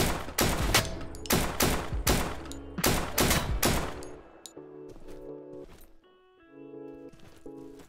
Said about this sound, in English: This is the 545 AK. It's meh. Got a lot of kick to it.